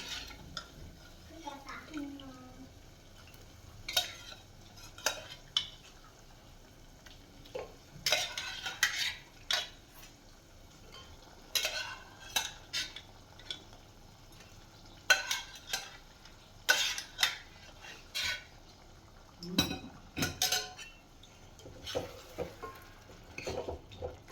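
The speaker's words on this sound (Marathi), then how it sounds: "मटण त्याच्यात आपण पीस टाकून फ्राय करून घेऊया" Mutton pieces are stirred in a pan for a spicy mutton curry, with intermittent sharp spoon clanks and scrapes against the metal over a faint low sizzle, in irregular bursts.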